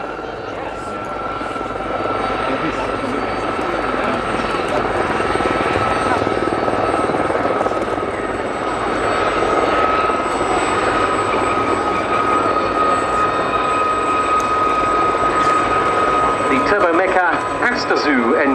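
Gazelle helicopter with an Astazou engine flying at the Cosford airshow, giving a steady whining turbine roar with rotor chop throughout while an announcer talks over it.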